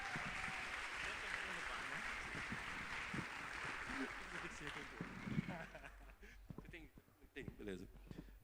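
Audience applause at an innovation talk event fades out as a speaker begins talking over the thinning claps, with a faint low hum underneath.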